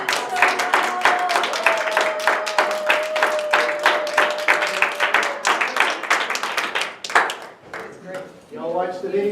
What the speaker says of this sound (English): I would just like everybody to stand up once more and applaud our contestants.